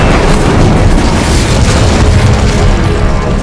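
A loud, continuous roaring spell blast in Hogwarts Legacy, deep booming rumble filling the whole span without a break, close and overpowering.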